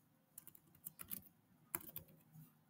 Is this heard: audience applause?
no